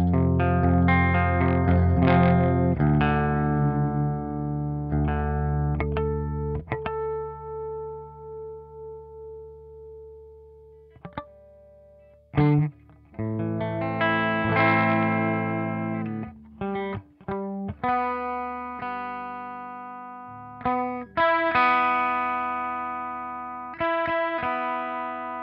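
Jackson JS1X Minion electric guitar with old strings, played through distortion and effects, slipping slightly out of tune; sustained chords and single notes ring loud and alone, with short gaps and bursts of picked phrases.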